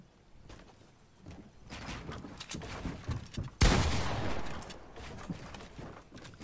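Scattered gunfire crackles through a Fortnite Chapter 2 match, with a few sharp shots and one loud close crack among softer distant pops and rustling, no voices.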